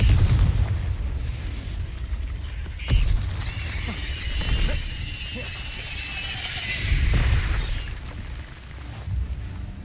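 A Confringo fire spell explodes in the Hogwarts Legacy video game amid combat, with deep rumbling booms and a sharp blast, layered with crackling magical effects and whooshes in a dense, loud battle mix.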